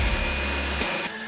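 A loud vacuum machine pulling a dirt-clad tree stump out of the ground gives a steady close roar that suddenly cuts off partway through, leaving a thinner whine.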